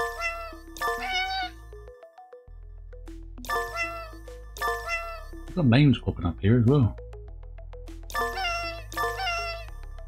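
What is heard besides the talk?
cats meowing in the video game 100 Cats New York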